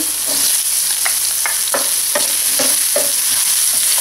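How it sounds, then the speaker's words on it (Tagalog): Garlic and onion sauté in hot oil in a pan for tinolang manok, a steady sizzle broken by rhythmic scraping stirs of a utensil. "Magpapainit lang tayo ng oil dito sa ating pan. So, ilagay na natin yung garlic. Yung onion."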